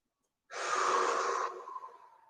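One long, deep breath during a relaxing stretching routine, drawn in and then slowly exhaled, close and clear against silence, with no talking.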